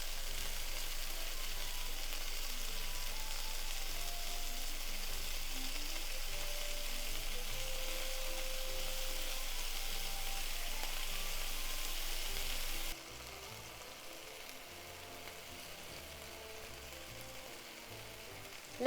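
Chicken pieces frying in a pan for a chicken and leek stir fry give a steady, close sizzle that carries on for several seconds, then drops to a quieter, softer crackle. No one speaks.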